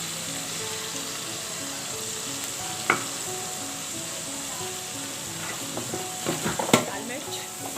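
Cumin seeds frying in a pan for chicken malai reshmi handi, a continuous close sizzle with occasional sharp spoon clinks and scrapes against the pan, growing busier toward the end.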